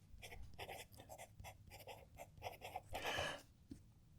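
PenBBS 268 vacuum-filling fountain pen with a soft No. 6 fine nib scratching across paper in quick, close strokes, a run of short rhythmic scribbles with brief gaps, faint and alone.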